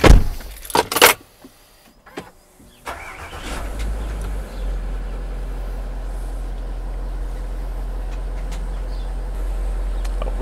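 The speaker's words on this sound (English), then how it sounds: "let's blow the suspension up" A Range Rover L322 4.4 TDV8's air suspension compressor starts after a few clicks and knocks, then settles into a steady low drone as it inflates the suspension to raise the car.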